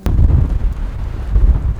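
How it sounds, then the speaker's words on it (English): Strong windstorm gusts of about 40 mph roar and buffet a microphone outdoors, a loud continuous low rumble that swells and eases without pause. "Okay, it's really windy."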